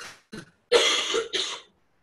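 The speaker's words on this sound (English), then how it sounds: "We're all coughing." Several coughs and throat-clearing bursts from people at an evening Dhamma discussion, a short cough followed by a longer harsh run of coughing, close and loud.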